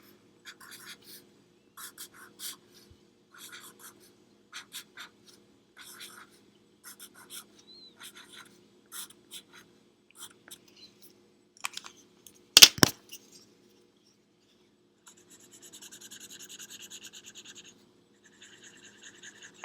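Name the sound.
writing the character's name on a drawing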